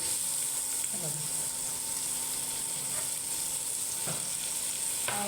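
Onion fries in hot oil with turmeric for a Marathi sanja breakfast, giving a constant close sizzle. A few brief scrapes or stirs of a utensil stand out above it.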